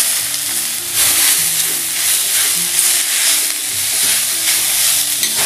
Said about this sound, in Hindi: तो लौकी को हल्का सा भून लेते हैं।